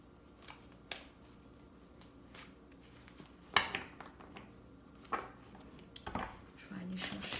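Tarot and oracle cards are shuffled and drawn by hand, giving soft irregular flicks, slaps and riffling snaps scattered across a quiet room, with a voice speaking lightly in the background.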